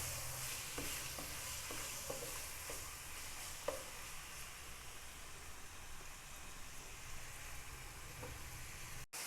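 Small cubes of chicken sizzle steadily in a hot pan, with a dense, even frying hiss throughout and occasional soft clicks of stirring, no voices.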